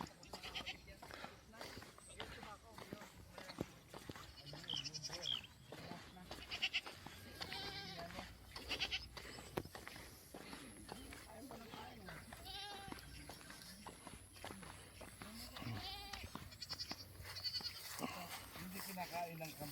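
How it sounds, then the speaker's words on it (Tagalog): Goats bleat repeatedly on a farm in the Philippines, their calls close and loud and recurring throughout, mixed with people talking nearby. "Kinakain ng kambing ang tabako."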